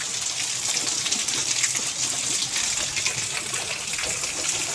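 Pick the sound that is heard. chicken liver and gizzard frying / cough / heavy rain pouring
heavy rain pouring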